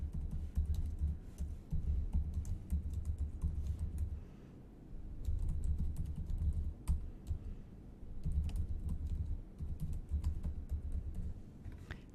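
Steady, close typing on a computer keyboard as a comment is entered in an office setting, with clicky keystrokes in continuous runs broken by brief pauses.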